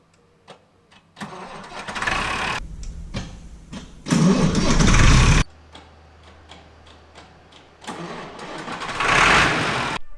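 A John Deere 3095 tractor engine with a faulty starter solenoid: a run of sharp solenoid clicks, cranking bursts, then the engine catching into a loud running roar, close by with no talking.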